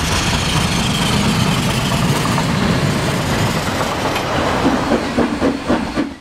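Steam locomotive JA1275 running out of the depot at Parnell on the way to Otahuhu, a steady loud rumble and chuff with rail clatter building into rhythmic clicks toward the end, heard close with no talk.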